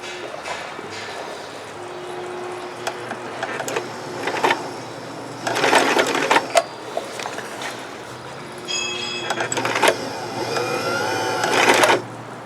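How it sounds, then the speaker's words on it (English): A sewing machine motor strains while stitching over a thick jeans hem and corner intersection, its feed dog faulty, giving several loud surging bursts of whirring that stall between pulses. "The motor is trying to do the job, but it cannot climb up because there's an issue with the feed dog."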